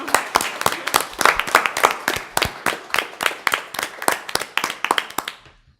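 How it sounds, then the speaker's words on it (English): Audience applause at a student forum: a small group claps in sharp, fairly close, rhythmic hand claps that continue steadily and then taper off to silence near the end. "I think she really deserves a round of applause."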